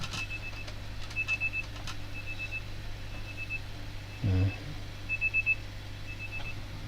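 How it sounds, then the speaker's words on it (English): Alarm going off in Pokemon Legends Z-A: faint, repeating high electronic beeps in short clusters, steady and quiet under a low background hum. "The alarm was going off."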